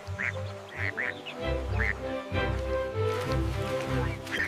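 Cartoon ducks quack repeatedly in an animated Five Little Ducks nursery song, short nasal quacks in bursts over a bouncy low musical backing.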